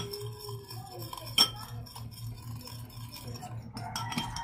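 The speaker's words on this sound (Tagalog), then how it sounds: "And then mix well together." Spoon clinking against a bowl while kinilaw sardine seasoning of pepper, white sugar and salt is stirred, giving light irregular taps and scrapes with one sharper clink over a low background hum.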